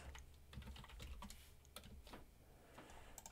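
Keys clatter on a computer keyboard as a search term is typed into a Microsoft Access database, a quiet run of irregular clicks and taps with no voices.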